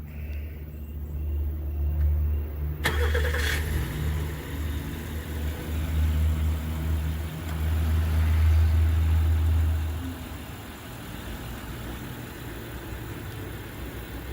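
A 2023 Honda Odyssey Touring's engine fires up by remote start after a quiet moment, a brief crank catching into a steady low idle rumble that holds, then eases slightly toward the end, close and alone.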